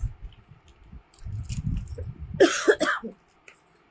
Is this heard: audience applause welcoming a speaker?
no